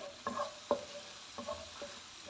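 A spoon stirs and mashes a batter-like mixture in a bowl as milk is poured in a little at a time, making a few soft, separate scraping and clinking strokes close by with quiet pauses between them.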